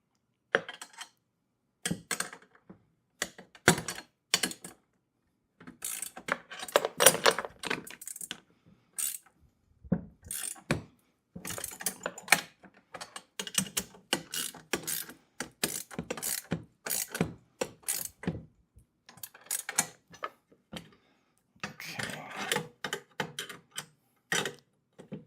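Bolts on a heavy-duty four-wheel garden dump cart are tightened with quick, quiet ratcheting clicks in irregular bursts, separated by brief pauses and light metallic handling sounds.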